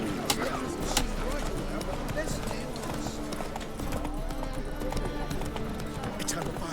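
Roach, a horse in The Witcher 3, gallops with steady, rapid clip-clop hoofbeats close by, a near-continuous rhythm with a voice speaking over it.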